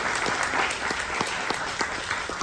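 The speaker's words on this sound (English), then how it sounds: "could you all give a huge round of applause for our panelists for joining us today?" An audience claps for panelists at an entertainment presentation, a steady, fairly close round of applause with individual claps standing out, heard alone without talk.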